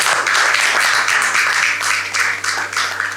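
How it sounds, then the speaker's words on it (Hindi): A crowd gathered to honour a Rajasthan board class 12 topper gives loud, sustained applause, dense clapping in uneven waves over a low steady hum, with no talking. "राम स्वरूप जी से मेरा आग्रह रहेगा, जोरदार तालियां।"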